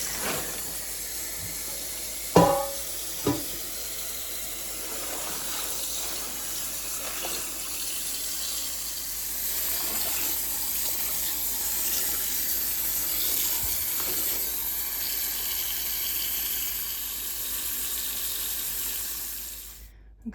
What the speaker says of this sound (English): we do let that soak in water, just agitate it every once in a while